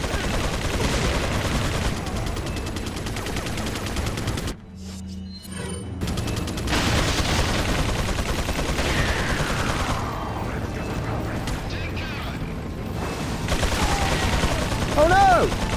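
Repeated gunshots and mechanical clatter during the Resident Evil 4 final boss fight against Osmund Saddler, dense and loud with a brief lull midway, without talk.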